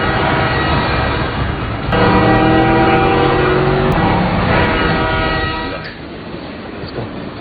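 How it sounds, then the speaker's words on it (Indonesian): A loud train rolls by close up, its horn sounding in long sustained tones over the rumble and rattle of wagons before fading slightly, interrupting a car chase in a film. "pengejaran Miguel terhalang oleh kereta"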